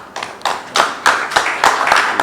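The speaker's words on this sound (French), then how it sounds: "que je vous demande encore une fois d'applaudir" An event audience bursts into applause, dense overlapping hand claps in repeated swells that hold loud and steady, with faint voices mixed in.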